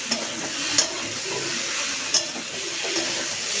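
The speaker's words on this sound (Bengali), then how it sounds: "এবার একটু নেড়ে দিই।" Vegetable curry with pointed gourd being stirred in a pan: a steady sizzle and hiss of frying with a few light scraping knocks of the spoon, close and continuous.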